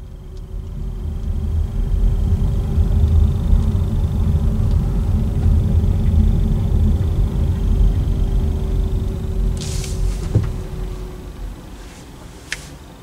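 A 2023 MG 4 swinging through a tight U-turn gives a steady low interior rumble of road and drivetrain noise with a faint constant whine, broken by a few light clicks near the end.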